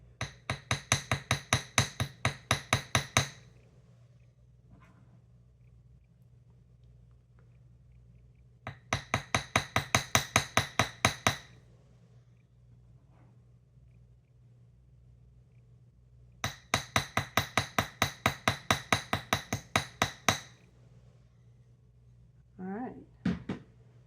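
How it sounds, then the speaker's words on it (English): Round-faced hammer tapping the tip of a wire spiral for dangle earrings, three bursts of rapid, even metallic taps with pauses between, close and clear. "this time we'll use the round-faced hammer because we can't really cover the whole thing and it'll soften it"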